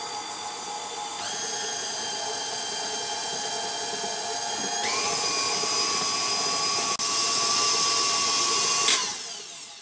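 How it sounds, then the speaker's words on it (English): A stand mixer fitted with the paddle attachment creams cookie batter for oatmeal cranberry pecan cookies, running as a steady close motor whine that shifts up in pitch partway through, then cuts off near the end. "I'm going to use a paddle mixer attachment, and I'm going to mix this on about medium speed until it is creamed"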